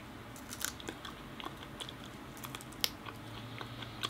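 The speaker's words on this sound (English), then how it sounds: "The first time I've ever eaten a baobab leaf in my life." Someone chews a freshly snipped baobab leaf, with soft, quiet crunching and biting close to the mic over a low background hum, plus a sharper crunch near the end.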